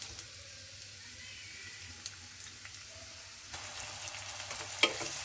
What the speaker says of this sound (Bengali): হালকা নেড়ে চেড়ে পেঁয়াজটাকে বাদামি করে ভেজে নেব।